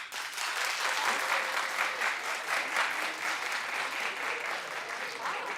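A studio audience at a daytime talk show claps steadily for several seconds, a dense, even wash of applause at moderate distance with no clear voices on top.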